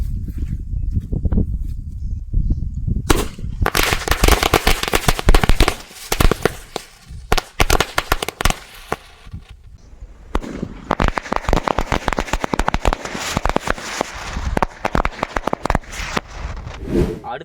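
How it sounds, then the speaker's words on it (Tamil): A chilli firecracker from Sivakasi goes off outdoors in loud, dense crackling bursts that keep popping rapidly for many seconds, near and harsh, with voices underneath. "ஒரு மிளகா பட்டாசு சாரா இருக்கு. ஸோ இது வச்சிடலாம் வாங்க."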